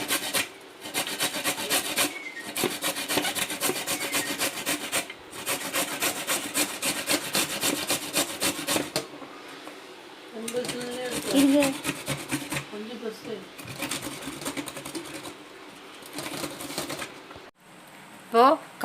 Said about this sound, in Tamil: இப்போ கட் பண்ணி வச்சுருக்கிற கப்பக்கிழங்கு செரவி எடுத்துக்கலாம்